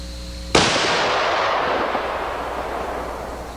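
A .340 rifle fires a single loud, close muzzle blast on an outdoor range, a sharp crack that rolls into a long, slowly fading boom and echo over several seconds.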